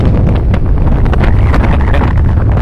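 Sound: wind

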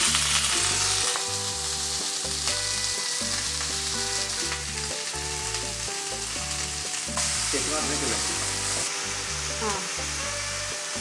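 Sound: mustard seeds and curry leaves frying in coconut oil

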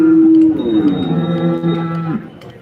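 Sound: cattle mooing at Modnimb cow market

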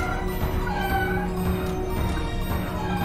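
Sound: squid enemy making cat meow sounds, video game We Need to Go Deeper

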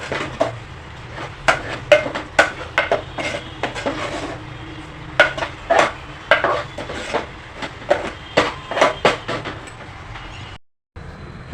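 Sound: stirring puran filling in a pot

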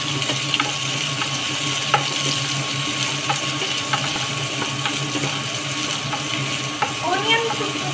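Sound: onions frying in a pan

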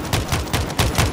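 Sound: gunfire in the video game World War Z Aftermath

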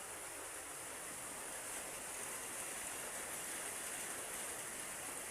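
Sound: rain falling

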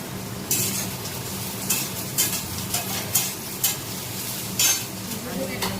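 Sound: potatoes and onions frying in pan

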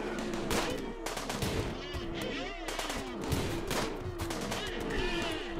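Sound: gunfire in the video game Rimworld

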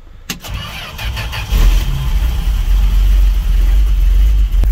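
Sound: 1969 Dodge D100 truck engine cranking, being jump-started

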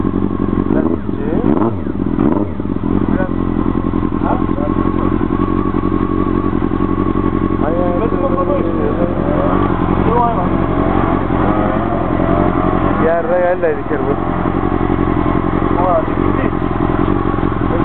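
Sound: Honda CBR400RR motorcycle engine revving

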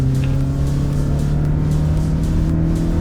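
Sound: car engine revving during brake test

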